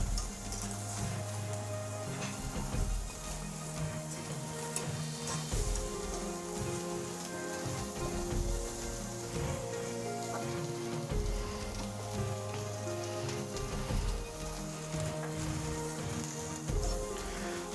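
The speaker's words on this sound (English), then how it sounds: "As you can see the sizzle on these lamb, the fat is melting off nicely." Lamb pieces sizzle on a hot grill as the fat renders, a steady dense crackle like rain that runs throughout, with faint background music below it.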